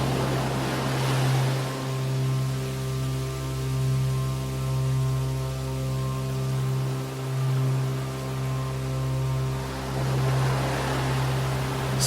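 Ocean waves roll in with a soft, steady wash of surf, swelling and receding slowly, blended with a sustained low musical drone and no voices.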